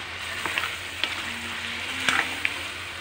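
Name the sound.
boiled chana dal added to a sizzling pan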